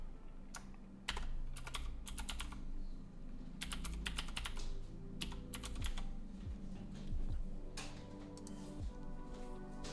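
Steady typing on a computer keyboard during a quiet co-working session, close and continuous for the whole stretch, with bursts of rapid key clicks and brief pauses between them, no voices.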